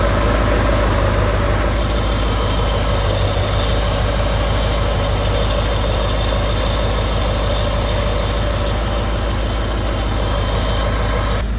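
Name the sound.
1994 Corvette engine running while burping the coolant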